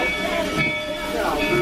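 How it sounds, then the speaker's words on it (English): Georgetown Loop Railroad train riding the rails, a steady close rumble with faint tonal squeal, a brief passenger voice briefly over the rolling noise. "Let's go back to riding the train."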